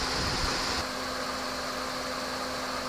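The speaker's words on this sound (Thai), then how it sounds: "พัดลมทำงานทั้งสองตัวครับ" A constant whirring drone of a car's twin electric radiator cooling fans, with the air conditioning on, runs steadily with a low hum underneath, close by and unchanging, no voices.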